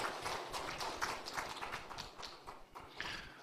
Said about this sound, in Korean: 하나님께 영광을 돌리고 수고한 모든 분들에게 다시 한번 감사를 드리는 박수 한번 합시다